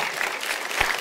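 A church audience claps in a brief, dense burst of many hands, steady and fairly close throughout the short moment.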